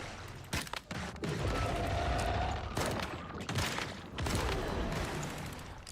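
Butterfly companion turret in the survival game Once Human firing in rapid bursts, a dense fusillade of gunshots running continuously at close range with a few sharper cracks standing out.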